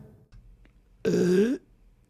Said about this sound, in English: That's a good simulated burp.